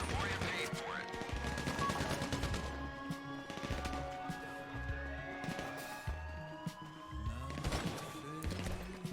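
Gunfire crackles through a GTA Online session, with repeated bursts and single shots at a moderate distance over a steady background din of engine and vehicle noise.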